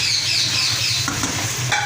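Mutton brain magaz masala with green chillies, dried fenugreek and chopped coriander fries in a pan, giving a steady close sizzle with scraping stirs against the metal.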